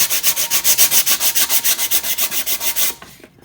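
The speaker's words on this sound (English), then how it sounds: "So now it's time to lightly sand. This is 300 grit sandpaper." A crayon-decorated tumbler is lightly sanded with 300 grit sandpaper in quick, even back-and-forth strokes, loud and close, stopping abruptly near the end.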